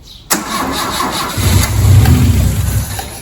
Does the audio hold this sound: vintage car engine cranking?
yes